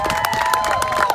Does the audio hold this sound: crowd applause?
yes